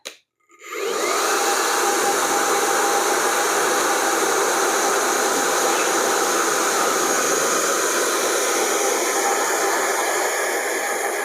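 Parlux hair dryer switched on and blowing warm air, a loud, steady close-up whoosh with a constant whine that keeps going without a break.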